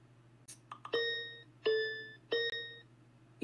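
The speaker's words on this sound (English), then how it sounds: "there's an individual sound for each of the shapes that show up on the slot machine" An Alexa casino slot-machine skill plays three bright chime-like tones in sequence, each ringing and decaying, one per reel symbol, over a low steady hum.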